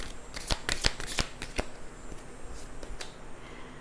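Tarot cards are handled and shuffled close by, a burst of quick riffling snaps and flicks followed by a few softer, scattered card sounds, with no talking.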